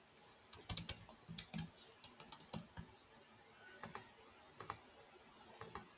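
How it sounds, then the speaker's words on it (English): Rapid, uneven keystrokes on a computer keyboard while an email address is entered, close and fairly quiet, in irregular bursts of clicks with no talking. "For example, I'll just type in,"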